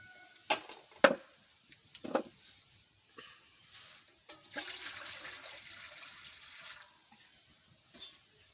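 Water is poured into a pot of rice for biryani in a long splashing stream, preceded by a few sharp clinks of utensils against the pot, with a single brief knock afterward.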